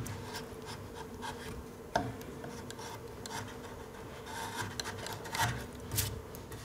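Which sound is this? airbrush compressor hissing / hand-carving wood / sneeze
hand-carving wood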